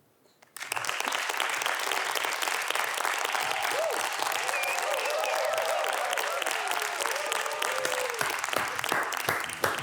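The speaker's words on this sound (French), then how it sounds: "vous allez m'applaudir, mais il n'y aura pas de standing ovation" A studio audience at a Belgian television comedy show breaks into applause after a brief quiet start, the clapping dense and continuous, building and holding at a moderate level to the end.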